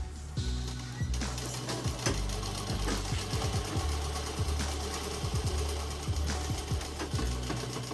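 A sewing machine stitches a shalwar seam in a continuous, loud, rhythmic run, rapid needle thumps driven by a steady motor hum throughout.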